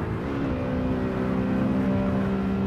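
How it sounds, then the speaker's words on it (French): A car engine in Assetto Corsa holds a steady, droning hum with a slight rise in pitch, fairly quiet and continuous, with nobody speaking over it. "Dans la tête, elle faisait plus de bruit, la voiture"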